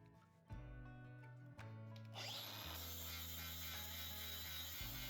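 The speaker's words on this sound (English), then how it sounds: "now I'm going to move to the flap disc. This will shine it up even more and maybe remove some of the pitting" A flap disc on an angle grinder spins up and grinds against an 85-year-old rusted steel axe head, a loud whining motor with a harsh abrasive rasp, close and continuous after a short start.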